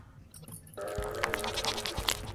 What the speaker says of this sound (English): A ghost goat, apparently.